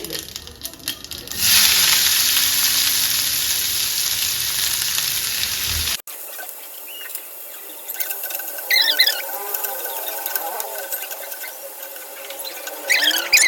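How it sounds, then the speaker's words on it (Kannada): Mustard seeds splutter and onion fries in hot oil, a steady loud sizzle filling the opening seconds, then a thinner crackling fry with sharp squeaky pops continuing alone to the end. "ಇಲ್ಲಿ ಸಾಸಿವೆ ಸಿಡಿತಾ ಇದೆ, ಅದಕ್ಕೆ ನಾನಿಲ್ಲಿ ಸಣ್ಣದಾಗಿ ಎತ್ತಿಟ್ಕೊಂಡ್ರಂತ ಈರುಳ್ಳಿನ ಹಾಕೋತಾ ಇದ್ದೀನಿ"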